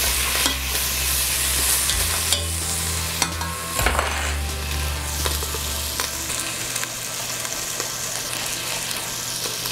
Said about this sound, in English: Just gonna stir this bacon around.